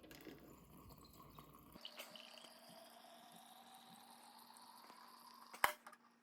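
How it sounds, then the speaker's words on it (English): Water pours steadily into a Hario cold brew coffee bottle from the top, running through the grounds in a continuous trickling fill. The pour grows slightly in pitch as the vessel fills, with a brief clink near the end. "I like to fill it up from the top because it's gonna go through the coffee as it pours in."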